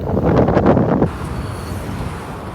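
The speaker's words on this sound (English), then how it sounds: "There's the wind." Loud wind buffets the microphone while riding an electric skateboard along a street, a heavy gusty roar for about a second before easing into a steadier, quieter rush.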